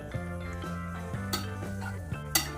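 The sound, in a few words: roasting coriander powder in ghee in a pan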